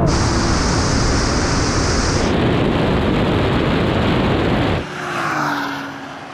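A Honda NSX engine in a racing video game roars loud and steady under hard throttle for several seconds, then drops away abruptly near the end.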